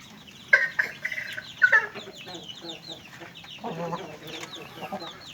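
Sick chickens cluck and squawk nearby in a busy, overlapping stream of calls, with a couple of sharper loud squawks early on and softer murmuring clucks throughout.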